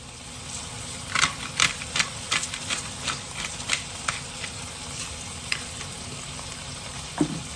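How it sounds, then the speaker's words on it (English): Steak sizzles and crackles in butter in a hot pan, with a steady frying hiss and scattered sharp pops and taps of utensils. "With that nice sizzle, I'm just going to put these in the butter."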